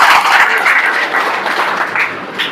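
Crowd applause at a political rally, a dense, steady wash of clapping from a large gathering that holds loud throughout and eases slightly toward the end, with no speech over it.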